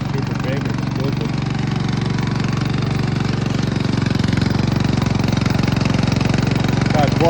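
The 7.5 horsepower engine of a remote control lawn mower runs steadily nearby, a loud, constant chugging drone with someone talking over it.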